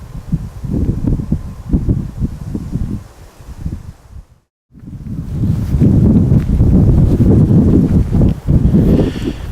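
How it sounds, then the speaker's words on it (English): Heavy wind buffets the microphone in loud, rumbling low gusts, briefly dropping out midway before roaring back even stronger. "it's really windy, so it's going to play havoc with the sound"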